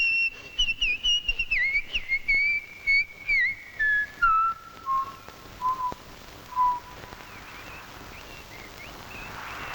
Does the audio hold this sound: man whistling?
yes